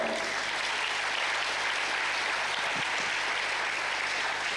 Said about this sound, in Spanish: sí, puede aplaudir al Señor